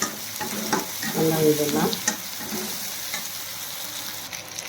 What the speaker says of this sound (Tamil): பூண்டு, வெங்காயம், நல்லா ஃப்ரை ஆகணும்.